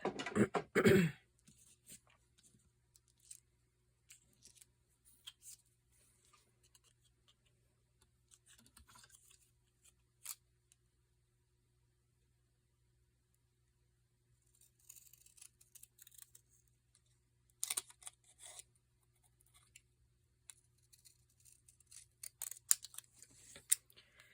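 Scissors trim a straight edge off a scalloped paper piece in a quiet craft setting, with close, crisp snips in short bursts at the start, then sparse small clicks and a later cluster of cutting sounds, without talking.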